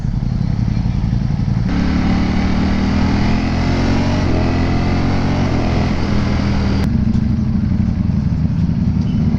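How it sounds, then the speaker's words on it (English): A Ducati Panigale V4 motorcycle rides on open roads, its engine a loud, close, continuous roar with shifting revs and a gear change partway through, with no pauses throughout. "ముందు నచ్చకపోతుండే కదా మన డుకాటీ సౌండ్"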